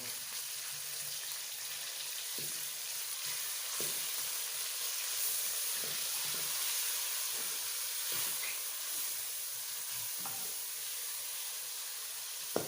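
Hand-pounded minced meat frying in a pan for aloo keema hisses in a steady, even sizzle, with occasional soft knocks of stirring and no talking.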